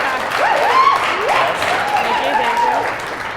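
Audience applause at a live Brooks Running event welcoming a guest, a steady wash of clapping with voices and cheering mixed through it.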